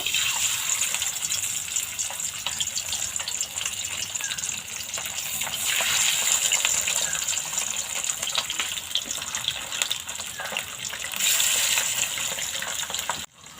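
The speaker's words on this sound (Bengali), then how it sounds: "এবারে এক একটা করে মাছ দিয়ে দেব" Pabda fish fry in oil in a wok, giving a long, continuous, rushing sizzle that swells slightly at times, steady and close throughout with no speech.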